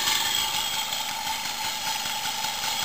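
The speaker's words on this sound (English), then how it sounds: "One of the quietest mopeds I've ever seen." A Motobecane Mobylette moped engine with a small exhaust pipe runs steadily and quietly nearby, an even idling hum with a faint high whine and no talking.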